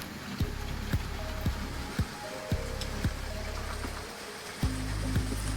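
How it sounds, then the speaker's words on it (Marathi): Rain falls on a farm where onion stock lies covered, making a steady soft hiss broken by regular faint tapping knocks, with no talk. "पाऊस पडायला लागला"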